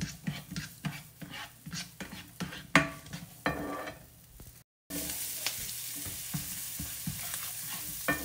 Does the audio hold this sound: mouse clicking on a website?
no